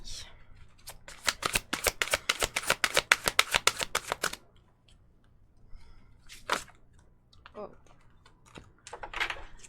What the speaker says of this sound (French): Les cartes sont difficiles à mélanger pour nos amis vierges.